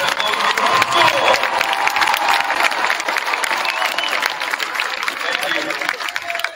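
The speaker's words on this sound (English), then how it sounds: "give a round of applause, be loud for these guys" Loud crowd applause and cheering fill a school gym, steady clapping under scattered shouts and voices for several seconds.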